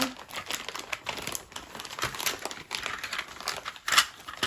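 Plastic packaging of half-inch by four-inch Q-snap cross stitch frame pieces crinkles continuously, a dense, close rustle with irregular bursts and a sharper crackle near the end, with no talking.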